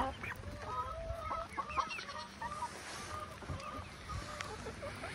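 Several backyard chickens of a breed with feathered feet cluck and call in short, irregular bursts, some bouts near and some farther off, over steady outdoor background noise.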